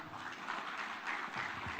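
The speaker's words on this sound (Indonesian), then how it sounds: "kita tepuk tangan" Audience clapping at a formal gathering, a soft, distant wash of many hands applauding briefly and evenly, with no voices standing out.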